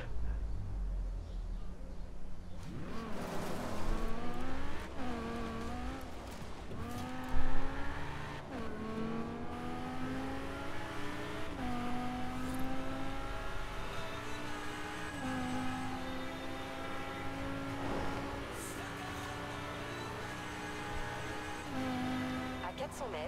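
A car in the racing video game Forza Horizon 4 revs and accelerates through repeated rising engine whines, shifting up through the gears with occasional tire noise, loud and close, while a voice talks over it.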